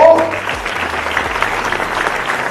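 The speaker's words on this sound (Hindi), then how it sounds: "बिहारियों के लिए ताली बजाइए आप।" Audience at a Bihar political speech breaking into applause, a dense burst of clapping that starts loud and carries on steadily, with faint voices underneath.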